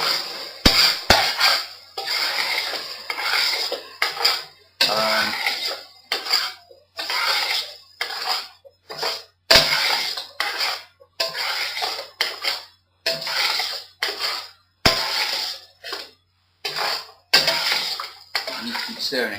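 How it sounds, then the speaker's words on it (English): A spoon stirs pasta bolognese sauce in a pan, giving repeated scraping and clinking strokes in a steady rhythm, close and fairly loud, with a person talking over it. "You keep stirring it so it doesn't stick to the bottom of the pan."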